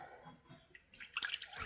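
Milk poured from a cup into a container of rolled oats, a short liquid splash and trickle of about a second rising out of quiet kitchen ambience, close and moderately loud.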